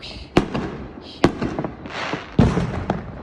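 New Year fireworks go off in three sharp, loud bangs about a second apart, each followed by crackling and fizzing, with a hissing launch in between.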